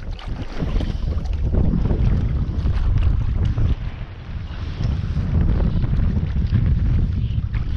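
Strong winter wind at a UK stillwater trout fishing lake buffets the microphone in a constant loud, low roar that rises and falls slightly, with no voices.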